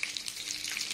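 Garlic and freshly added onion sizzle and crackle in hot oil in a pan, a steady close hiss with small pops, no voices.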